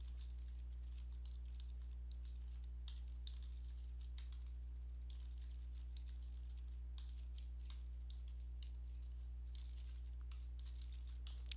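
Rapid clicks of typing on a computer keyboard, irregular bursts of keystrokes over a steady low electrical hum, close and fairly quiet with no speech.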